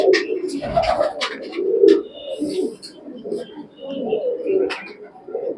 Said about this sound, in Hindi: ये कबूतर मेरे घर का पट्ठा है